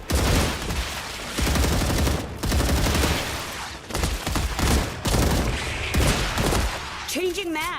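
Heavy automatic gunfire in the game StarRupture, long loud bursts separated by short gaps, with booming impacts and a voice talking over parts of it.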